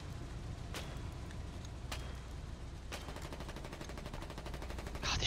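Short rifle gunfire in the war game Foxhole, with three sharp single shots spaced about a second apart, then a rapid burst of distant automatic fire crackling under constant background battle noise.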